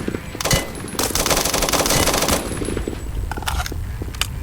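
Automatic gunfire in the Roblox game Blackhawk Rescue Mission 5, with a couple of quick shots followed by a long, loud sustained burst and then scattered shorter bursts close by.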